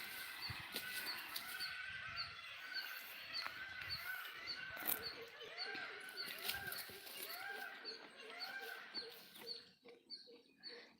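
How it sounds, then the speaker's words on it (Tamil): Outdoor birdsong and rural chatter in a garden with repeated loud, rising peacock calls in the middle and back half, a voice talking quietly in the background. "சத்தம் கேட்டுச்சிங்களா மயில் கத்துற சத்தம்"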